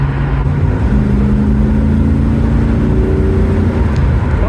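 A car engine hums steadily at close range, a low continuous drone with slight shifts in pitch as the vehicle drives along.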